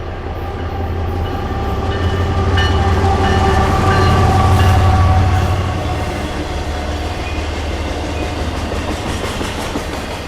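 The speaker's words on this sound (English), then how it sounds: "we then see a westbound BNSF intermodal train on the Aurora subdivision" A westbound BNSF intermodal freight train rolls past on the Aurora subdivision in Illinois, with a loud continuous rumble and wheel clatter that swells to a peak midway, then eases off while the cars keep passing.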